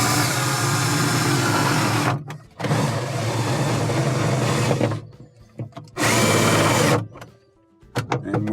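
A power drill drives screws into a part of a Hotpoint refrigerator during a repair. It runs in loud, steady bursts of a couple of seconds each, with short pauses and small handling noises between them.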